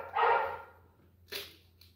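A dog outside gives a loud bark, then a second shorter bark after a pause, both at moderate distance with no one talking.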